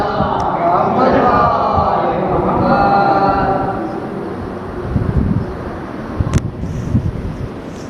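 A mosque gathering at a Ramadan memorial majlis raises a loud collective chant of salawat, many voices together in a sustained swell that fades into crowd murmur and rustling.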